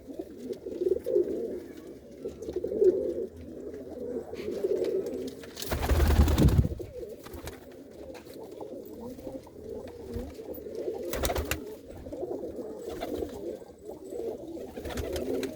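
Pigeons at a rooftop loft, including a Makhiala pair with a hen sitting on eggs, give steady low cooing that rises and falls throughout, broken by a loud rustling burst of movement midway and with no speech.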